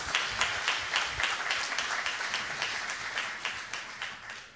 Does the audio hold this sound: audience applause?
yes